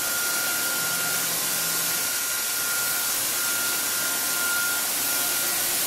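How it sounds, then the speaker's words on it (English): Printing press running in a print shop, a steady broadband mechanical roar with a constant tonal whine, loud and continuous throughout with no talk. "This is the press that they're being printed on."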